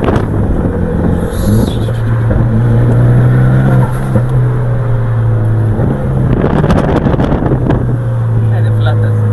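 Cabin sound of a Porsche 911 Carrera with a seven-speed manual gearbox on the road, a loud steady engine drone with tonal hum shifting as it changes gear, wind noise and people talking over it.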